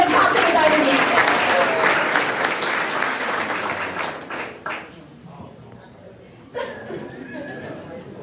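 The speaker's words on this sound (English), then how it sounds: "Let's give a big round of applause for Melissa Cheatham, Cochran without an E." A school board meeting audience breaks into loud, sustained applause that tapers off and fades, followed by a brief renewed burst of clapping near the end.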